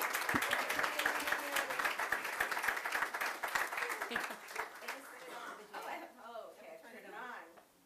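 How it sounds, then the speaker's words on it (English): An audience applauds as a comedian takes the stage at a meditation museum grand opening, brisk clapping for about four seconds that thins out as a voice starts talking over the fading claps. "don't stop applauding just because I haven't said anything"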